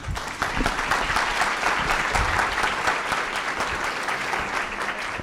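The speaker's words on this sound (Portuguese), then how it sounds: "Ana Paula e Brianda, um aplauso para elas." Sustained applause from a crowd at an academic presentation on ORCID identifiers, dense steady clapping that fills the room for several seconds, with no talking over it.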